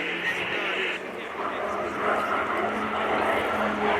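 A PC-9M propeller aircraft flies an aerobatic display at RIAT 2024, its engine droning steadily and shifting in pitch as it maneuvers at a distance, under an announcer's continuous commentary.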